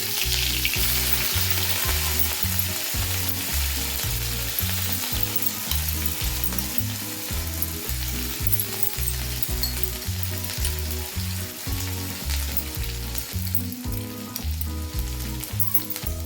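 Crushed garlic, ginger and green chilli fry in a pan with a loud, continuous sizzle that holds steady throughout, while a rhythmic low thumping pulses underneath.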